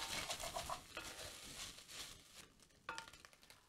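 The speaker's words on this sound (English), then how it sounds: "I'm just gonna add a little bit more oil so the beef can brown a little bit on the bottom." Beef browning in oil in a pot for a Finnish shepherd's stew, a faint, steady crackling sizzle with soft patter and a couple of utensil clinks, no voices.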